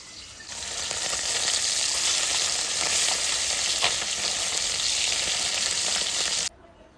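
Loud, continuous sizzling of rita fish frying in hot oil in a wok, constant throughout before dropping away abruptly at the end.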